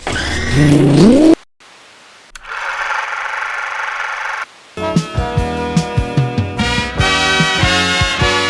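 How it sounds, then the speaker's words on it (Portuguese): A car engine cranks briefly, drops out, then catches and runs, settling into a loud rhythmic revving with repeated throttle blips, close and alone. "Vamos ligar o motor."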